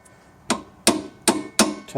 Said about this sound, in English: you put the nut upside down, just so it's level with that top bit there, and then you can just give it a tap